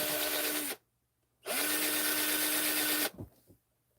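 A power drill boring a hole, running in two whirring bursts that spin up and cut off with a pause between, followed by a few faint clicks.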